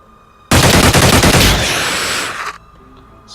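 A sustained burst of suppressed automatic gunfire in a video game, dense rapid shots running for about two seconds, loud and close, then cutting off abruptly.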